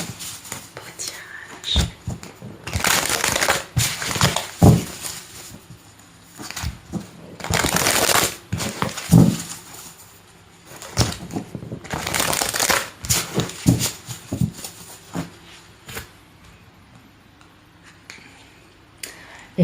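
Tarot cards being shuffled in several bursts of riffling and crisp papery rustling, close and fairly loud, separated by pauses with some soft speech in between.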